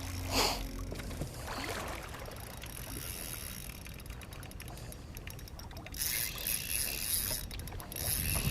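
A bass fishing reel's drag ticks and buzzes faintly as a fish pulls line out on a boat on the St. Lawrence River during a tournament. The clicking goes on steadily under wind and water noise.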